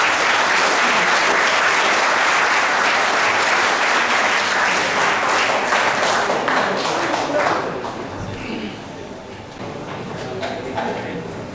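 An audience at a national auto tech fest in Kolkata applauds as guests come on stage, a dense, loud wash of clapping that holds strong, then thins and fades toward the end.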